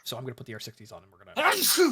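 A sneeze bursts out loudly after someone speaks during a War Thunder dev-server session, a short breathy blast with a throaty tail close to the microphone.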